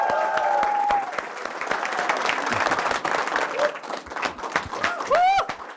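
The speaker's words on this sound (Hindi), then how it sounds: "खड़े पे ताली बजनी चाहिए।" An audience at a live event bursts into loud applause to welcome a guest speaker, with dense clapping mixed with whoops and cheers that rise again toward the end.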